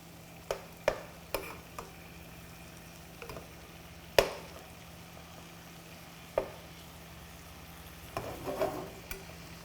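Beef pieces cook in a hot pan, giving a soft steady sizzle with scattered clicks and taps of a utensil against the pan, fairly quiet and close, no talking.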